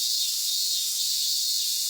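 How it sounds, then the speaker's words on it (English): Cicadas buzz in a steady, high, hissing drone on a hot early summer day in the visual novel Narcissu. The sound is continuous and fairly faint, with no other sounds. "The sound of cicadas."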